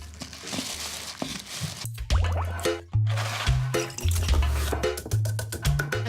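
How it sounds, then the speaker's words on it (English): A spoonful of sand is stirred into water. It makes gritty scraping and crunching swirls with wet sloshes, close up, in uneven bursts over a low hum. "Just grab a handful of sand or a spoonful of sand and mix it into the water"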